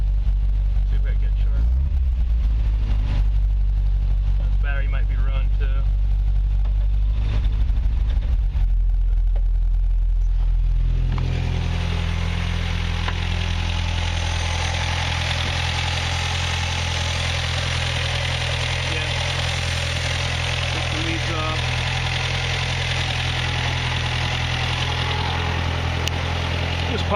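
A 1965 Datsun engine idles after a cold start, a steady low rumble with some knocking that runs close and loud for most of the stretch, with a fuller roar taking over midway.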